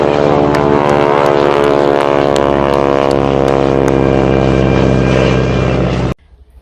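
A loud, close droning of a small propeller airplane engine, steady and buzzing with a rhythmic pulse, cutting off abruptly near the end.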